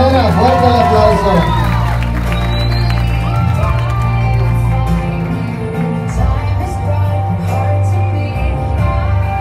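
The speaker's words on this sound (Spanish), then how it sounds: "Daniela Rivera, fuerte el aplauso." An audience at a quinceañera party claps and cheers while loud DJ music with heavy bass plays, and an announcer talks over the crowd noise throughout.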